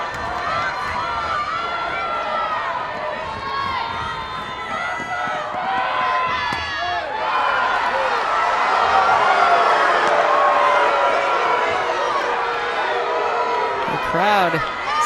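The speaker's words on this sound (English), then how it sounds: "The crowd is not liking it." A women's softball stadium crowd at an Arizona home game against Ole Miss murmurs and rises in a sustained, moderately loud reaction, while a commentator talks over it throughout.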